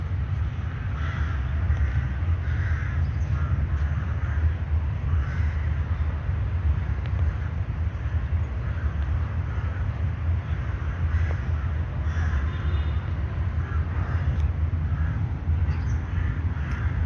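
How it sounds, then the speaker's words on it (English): Crows caw repeatedly over a steady low rumble of wind and park ambience in Mellat Park, Mashhad, the calls moderately distant and scattered across the whole stretch. "Look at those birds."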